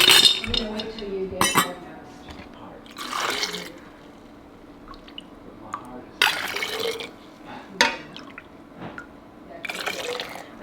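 Honey water pours into glass jars packed with cranberries, with repeated clinks of glass and utensils, trickling liquid and intermittent handling noise close by.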